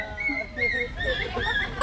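Dog whimpering after being pinched, a few short high whines and yips over a background of people talking.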